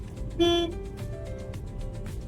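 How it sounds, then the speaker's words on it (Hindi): A single short car horn beep sounds near the start over steady traffic and engine hum during a driving lesson, with no voices. "अंकल को हॉर्न दो।"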